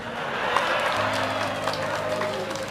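Audience clapping at an Islamic sermon gathering, a steady wash of many hands that holds at moderate level throughout, with a low hum and faint voices underneath.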